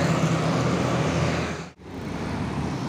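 An ALS intercity bus on the Surabaya–Medan route passes along a road, a broad steady roar of engine and tyres that briefly drops away, then rises again as traffic continues.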